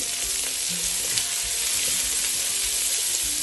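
Onions with salt sauté in a pan, a continuous close sizzle and crackle of frying holding steady throughout, with no talk.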